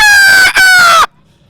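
A man imitates a rooster crowing, a loud close strained cock-a-doodle-doo call with a brief break in the middle, ending abruptly into near silence.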